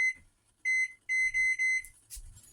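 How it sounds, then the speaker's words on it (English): Microwave timer being set while cooking caramel dumplings: three short electronic beeps at a steady high pitch, then a sustained tone broken into several pulses, clear and close, with light handling noise and no talk. "I have my timer set for 5 minutes on the microwave"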